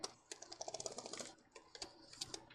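Rapid, light key clicks from typing on the keyboard of a 2011 MacBook Pro 15-inch laptop (A1286), close and fairly faint, in uneven bursts with a short pause midway.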